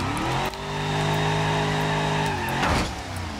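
Simulated car engine in the PC game BeamNG.drive during an oversteer spin into a guard rail, a steady loud drone with a sharp impact burst near the end.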